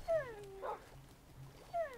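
Tamed wolves acting as pet dogs in a Minecraft Hunger Games match give short whining yips and a soft bark, with a brief thud between them, all fairly faint against quiet game ambience.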